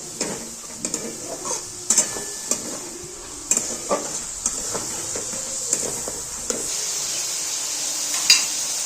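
A pan of onion, garlic and tomato sizzles steadily while a utensil repeatedly scrapes and taps against the metal during stirring. The clatter is close, and there is no talk.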